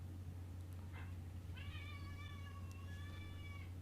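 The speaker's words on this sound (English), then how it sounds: "Oh my gosh, she's crying. Like, just the longest meows." A female cat cries out in long, drawn-out meows, one short call followed by two sustained wails, fairly close over a steady low hum in a room.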